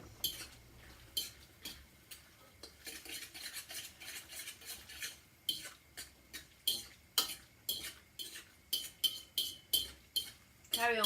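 Utensils clinking and scraping against a pan while a seafood broth with lime and salt cooks down, in irregular quiet taps and stirs.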